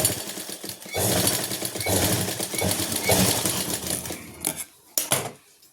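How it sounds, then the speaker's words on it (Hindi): A sewing machine stitches a shirt collar, a rapid close mechanical clatter running continuously for several seconds before stopping, with a couple of short bursts after. "इस तरह से हमें पॉइंट पे इस तरह से सिलाई लगा देंगे।"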